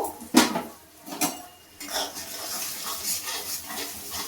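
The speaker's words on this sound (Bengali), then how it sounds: "এবার আমি মশলাটাকে ভালোভাবে কষিয়ে নেব।" Ground spice masala with cumin and garam masala frying in a pan, opening with a sharp clank of utensil on metal, another knock, then a steady sizzle with stirring scrapes.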